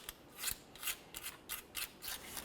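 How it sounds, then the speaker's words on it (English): A scraper works over the aluminum transmission pan mounting surface of a 2005-2010 Chevrolet Cobalt, giving quiet rhythmic scraping strokes, about seven in a row, close up. "you can use a scraper or even a flat razor blade"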